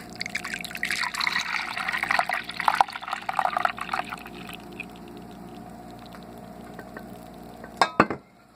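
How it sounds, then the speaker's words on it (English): Homemade ricotta curds pour into a strainer lined with a cloth diaper, making wet splashing and gurgling for several seconds that then tapers to a quiet trickle, ending with a couple of sharp clunks. "I'm ready to pour in the curds"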